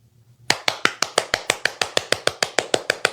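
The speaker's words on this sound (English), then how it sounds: "I'm clapping for myself." One person claps in a quick, even rhythm, about sixteen sharp, close claps in under three seconds after a brief quiet start, with no talking.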